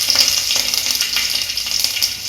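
Crushed garlic dropped into hot oil with popping mustard seeds, a loud, bright, continuous sizzle with faint crackles, close up and uninterrupted.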